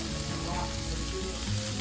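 Cubed cream cheese melting in a hot pan, giving a steady, close, continuous sizzle and crackle with no talk.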